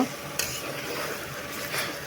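Chicken biryani masala with fried potatoes is stirred and fried in a pan: a continuous low sizzle with scraping stir strokes and a couple of sharper utensil clicks, close and moderately quiet.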